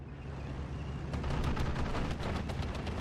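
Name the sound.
122mm off-map artillery fire in video game Steel Division 2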